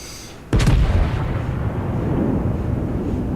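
Heavy naval gunfire from a warship's main battery in a naval combat video game: a sharp, loud boom followed by a long rumbling roll that fades out slowly.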